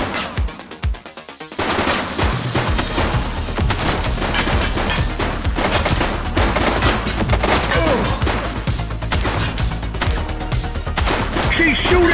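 Rapid bursts of automatic gunfire and single shots crackle through a police shootout in The Precinct, dense and loud over a steady game soundtrack, with brief shouted voice lines in between.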